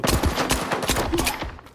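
Rapid bursts of automatic gunfire in the video game S.T.A.L.K.E.R. 2 crackle continuously and loudly, in a fast rattling rhythm with no pauses.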